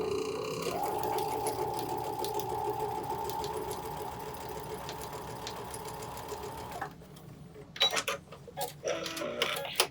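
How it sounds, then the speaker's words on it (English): A sewing machine stitches a quarter-inch seam through dark quilting fabric, running in a steady continuous whir for about seven seconds before stopping, followed by a few brief clicks and handling noises. "I'm going to sew 1/4 inch to the left of the line."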